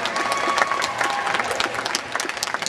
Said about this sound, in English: Let's go ahead and put our hands together for them right now.